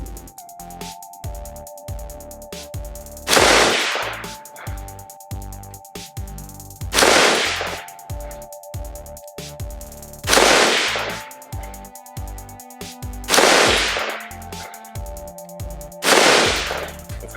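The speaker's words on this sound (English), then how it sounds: "So we'll put 5 rounds of that downrange and see what it does." A Bravo Company Manufacturing Mk12 SPR rifle fires five sharp, loud shots at a steady interval of about three seconds each, with a constant tonal hum running underneath between the reports.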